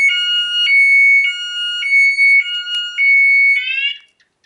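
Anti-theft alarm on a Honda CBR 150i motorcycle, sounding loud, close piercing electronic beeps in a steady repeating pattern. A rapid warbling chirp ends the alarm before it cuts off.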